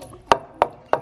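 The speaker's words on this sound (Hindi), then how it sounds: "लहसुन कूट रहे हैं ना" Three sharp, evenly spaced thuds of a pestle pounding garlic in a mortar, close and distinct against a quiet background, in a village kitchen.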